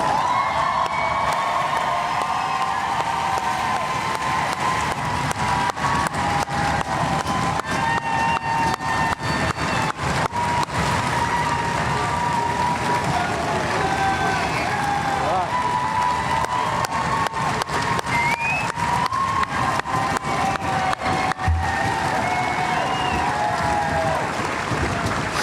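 A large crowd in the bleachers at a Fort Benning infantry graduation ceremony claps and cheers without pause, a dense, steady roar of applause with scattered shouts throughout.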